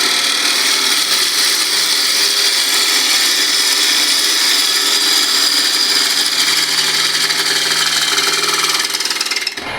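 A standard scraper cuts the inside of a wooden bowl on a lathe, a loud, steady whirring scrape of tool on spinning wood that holds unbroken for nearly ten seconds, then cuts off abruptly at the end, with no talk.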